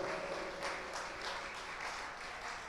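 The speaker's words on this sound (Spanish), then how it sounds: "Démosle aplausos al Rey de Gloria." A church congregation applauds together after the pastor calls for praise, steady sustained clapping that fills the room without any talk.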